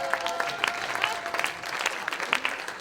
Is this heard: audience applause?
yes